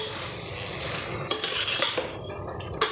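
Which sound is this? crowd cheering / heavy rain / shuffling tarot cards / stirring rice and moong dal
stirring rice and moong dal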